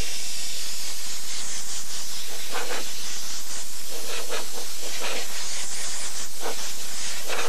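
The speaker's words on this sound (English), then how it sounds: "I'm going to take some compressed air and I'm going to blow this off." Compressed air blasts against a car body panel during bodywork, a loud continuous hiss with repeated pulsing bursts as dust is blown off, close and steady with no talking.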